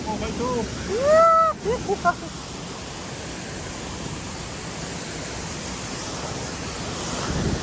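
Steady broadband rush of falling water from a nearby waterfall, continuous and fairly even throughout, with a brief burst of voices and whistling tones early on.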